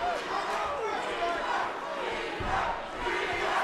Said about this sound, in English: You hear the chants of Remer coming from the crowd